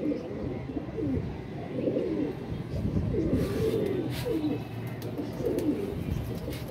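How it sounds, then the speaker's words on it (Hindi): Several pigeons coo continuously nearby in low, throaty, overlapping rolls, with some faint shuffling and rustling in the background. "अच्छी ब्रीडर कबूतरी हैं"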